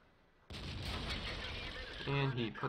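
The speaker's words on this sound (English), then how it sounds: "And he puts a tracking shot into us." A tank cannon shot lands as a tracking hit on a tank's turret in a video game, an abrupt loud blast at the start that rolls into a sustained rumbling burst, with a brief metallic ringing tone near the end.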